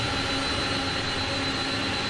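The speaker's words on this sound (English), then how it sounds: "Look at the engines and how they're going to just about blow that thrust away from our engine" A300-600F jet engines idle on the taxiway in a flight simulator with a continuous loud whine and steady roar that holds level throughout.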